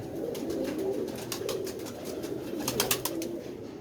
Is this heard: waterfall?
no